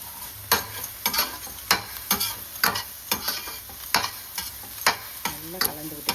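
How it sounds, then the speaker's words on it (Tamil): Pav bhaji masala frying in a pan while being stirred, a continuous sizzle punctuated by regular, rhythmic spoon scrapes, close and alone. "நல்லா கலந்து விட்டுக்கோங்க"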